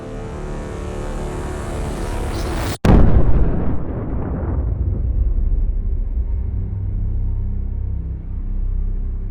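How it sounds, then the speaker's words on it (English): 3D-animated Halo MAC cannon firing a hyper-dense round, a sudden massive blast followed by a long, deep rumbling roar that lingers and slowly settles. "In an instant it fired, unleashing a hyper-dense round that surged forward with unstoppable force, slicing through the atmosphere like a needle at extreme velocity."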